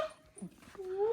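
A dog gives short whimpers up close, ending in a high, rising whine, with soft voices nearby.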